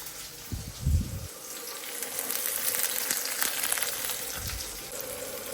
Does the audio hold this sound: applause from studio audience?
no